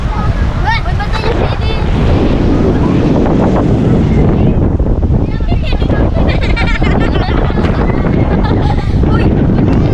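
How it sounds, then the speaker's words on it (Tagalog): Strong sea wind buffets the microphone with loud, continuous low rumbling at the coast of Brgy. Wawa II, Rosario, Cavite, while a voice speaks intermittently beneath the roar. "Dito galing yung hangin."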